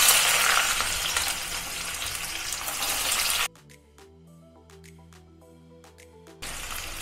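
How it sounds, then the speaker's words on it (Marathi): Onion fries in hot oil in a kadhai, a loud, steady, hissing sizzle that cuts out briefly for a few seconds before the sizzling returns. "यात आता आपण कांदा फ्राय करून घेऊया"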